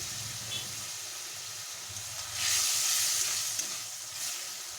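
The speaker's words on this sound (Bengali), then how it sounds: "একটু জল অ্যাড করে মশলাটাকে ভালো করে কষে নেব" Spice masala cooked down in a pan with a splash of water sizzles and hisses while being stirred, a louder burst of frying midway, with a voice talking over it.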